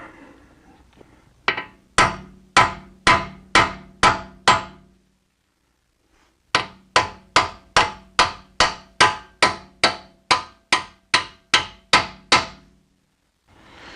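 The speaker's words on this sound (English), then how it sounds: "a 36 millimeter socket happens to fit over that race just perfectly. So we're going to use that to drive it in." Wheel bearing on a BMW E46 front hub being driven in with a 36 mm socket and hammer: two runs of sharp, evenly spaced metallic blows, six then about twelve, close and loud with a brief pause between.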